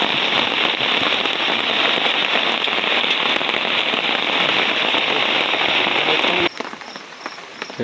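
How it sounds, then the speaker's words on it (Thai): Heavy rain pours steadily in a dense, constant hiss, then abruptly drops to a softer patter near the end. "ฝนยังบ่หยุดตกอยู่"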